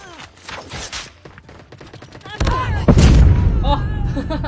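Frag grenade going off in Call of Duty Mobile, a heavy booming blast with rumbling gunfire around it, following a voice calling out over the match.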